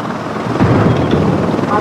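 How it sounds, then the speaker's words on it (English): Helicopter in the video game Ghost Recon Wildlands, a loud, steady low rotor rumble that swells partway through, close and continuous, with a player talking over it. "Helicopter ata yun."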